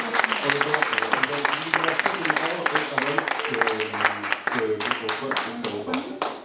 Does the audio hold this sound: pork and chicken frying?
no